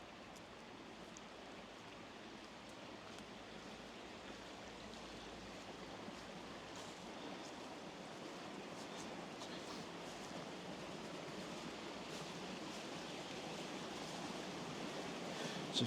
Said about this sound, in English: There's a few little waterfalls you can hear on the audio probably.